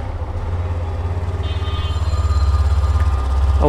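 A Hero Xtreme 125R motorcycle's single-cylinder engine is started and settles into a loud, close, steady pulsing idle, with a brief rising rev at the very end.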